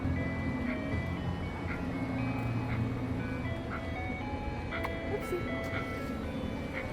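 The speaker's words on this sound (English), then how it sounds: "There's a food truck which sells popsicles." An ice cream truck selling popsicles on a Houston street plays its repeating tinkly melody at moderate distance, steady for the whole stretch over a constant rumble of traffic.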